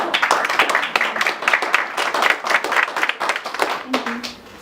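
Scattered audience clapping breaks out on a talk show stage, a burst of uneven claps with voices talking over it and a brief vocal tone near the end.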